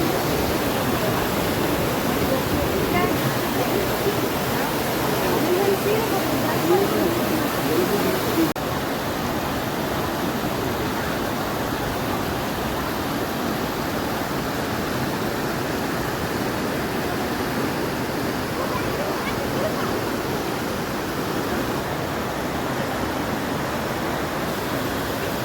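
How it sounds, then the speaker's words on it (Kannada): The Nandini river rushes near the Durga Parameshwari temple at Kateel, a steady loud roar of flowing water heard close and continuous throughout, with no one talking. "ನಂದಿನಿ ನದಿಯ ರಭಸ ನದಿ"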